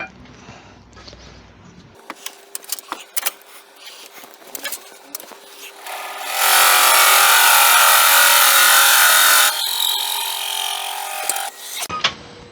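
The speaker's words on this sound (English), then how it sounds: "So I need to drill in there another ½ inch." A power drill whirs steadily into driftwood on a woodturning piece for a few seconds, loud and close, preceded by light tapping and handling knocks.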